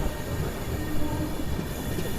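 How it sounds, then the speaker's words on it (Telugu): A Janshatabdi Express pulls out of Nellore station, heard from on board as a steady, fairly quiet rumble of wheels and carriage noise with no voices. "వచ్చేసి నెల్లూరుకి అయితే వచ్చింది, బయలుదేరిపోయింది."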